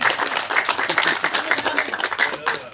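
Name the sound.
applause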